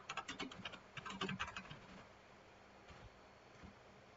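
Rapid typing on a computer keyboard, a quick run of soft clicking keystrokes for about two seconds, then only a few scattered taps in a quiet room.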